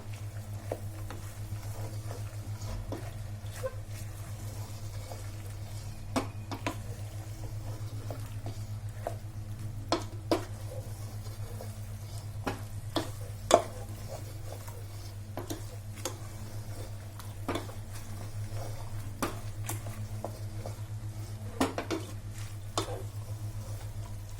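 A spoon stirs spices into dal turi in a pot, giving scattered soft taps, scrapes and light squishes, close and fairly quiet over a low steady hum.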